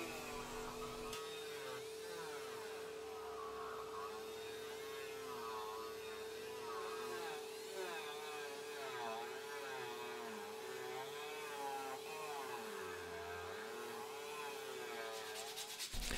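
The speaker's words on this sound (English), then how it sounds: "since mine is broken, I'm just going to use my multi-tool" A multi-tool rounds over the edges of a wooden fishing lure, giving a steady continuous grinding and rubbing hum with a constant motor whine, close and loud throughout, with no talk.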